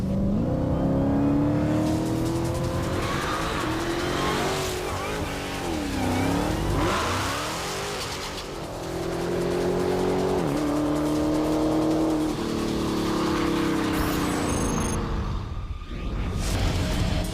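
A 2018 Dodge Challenger SRT Demon with an 840-horsepower supercharged Hellcat V8 roars loudly up close, revving and accelerating hard through rising and falling gear pulls, with brief tire squeal and a passing surge near the end.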